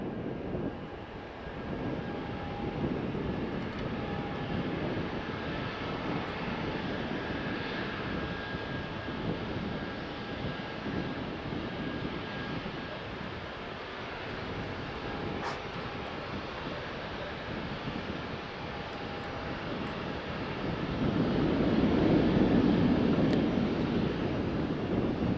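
Aircraft engines at Faro Airport, a distant broad roar and whine of jets that swells louder toward the end, under steady background wind noise.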